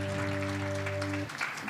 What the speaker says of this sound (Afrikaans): Kan ons vir die band 'n hande klap gee?